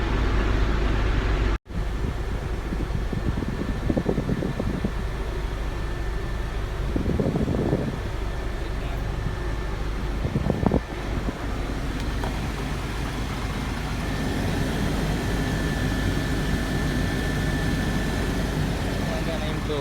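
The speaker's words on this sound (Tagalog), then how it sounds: "Gumagana yung blower niya." Truck air conditioning blower fan running during AC troubleshooting, a steady whirring hum with a few brief knocks and clicks, speech heard over it.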